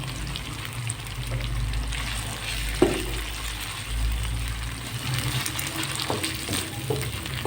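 Diced carrots fry and sizzle in a pan while being stirred, a steady close sizzle with occasional scraping clinks of the spoon against the pan.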